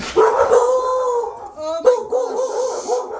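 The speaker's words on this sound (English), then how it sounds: "Sorry about the dogs barking." Dogs howl and bark close by in long, loud, wavering bursts with a brief yip, while a person speaks a few words over them.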